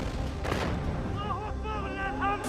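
Booms and blasts from a Hamas combat video in Gaza, heavy rumbling bursts near the start followed by ongoing rumble with a tonal whine layered over it, loud throughout.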